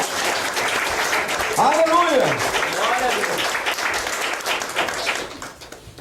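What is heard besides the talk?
congregation applauding in church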